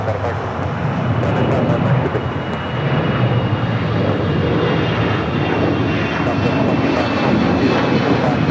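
A JetBlue airliner landing on runway 25 left at LAX, heard as a loud, steady broadband jet engine roar that fills the whole span with little change in level.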